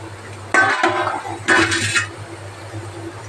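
Chowmein noodles stirred in a metal pot of boiling water, with two bursts of scraping and clattering utensil on metal over a low steady burner hum.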